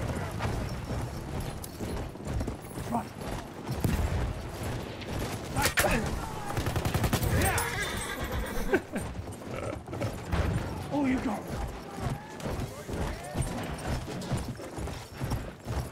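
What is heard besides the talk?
horse galloping in Battlefield 1 video game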